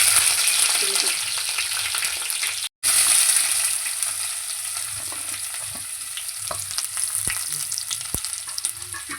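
Green chillies and cumin seeds fry in hot oil for a fish curry, sizzling steadily at close range with a brief dropout and occasional stirring clicks.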